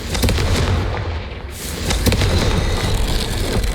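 Confringo explosion spell in Hogwarts Legacy, loud booming blasts with a sharp burst near the start and another around two seconds, rumbling and crackling in between, close and dominant, no talk.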